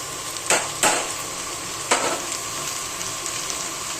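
Bitter gourd (karela) slices drop into hot oil in a pan, raising a close, loud sizzle with sharp bursts near the start and again partway through, settling into steady frying.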